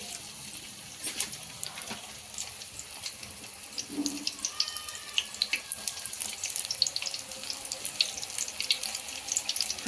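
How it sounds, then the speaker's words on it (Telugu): Soybean chunks drop one by one into hot oil and fry with a soft, hissing, bubbling sizzle, faint and fairly steady, flecked with small crackling pops that grow busier toward the end. "ఆయిల్ కాగిందండి. ఇప్పుడు ఒక్కొక్కటి తీసుకొని ఇలా వేసుకోవాలి."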